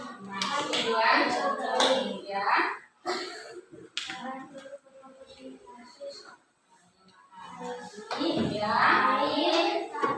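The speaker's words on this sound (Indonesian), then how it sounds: "Ya, tepuk tangan untuk kelompok 1" Classroom students clap for a group that has just presented on photosynthesis, a scattered burst of many hands clapping mixed with children's voices and a teacher speaking, fading briefly before another round of clapping.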